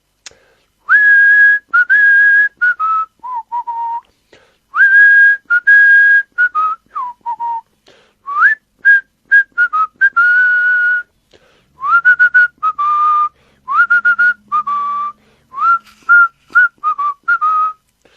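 A person whistles a tune up close in short, clear bursts with brief pauses, loud and bright with nothing else behind it.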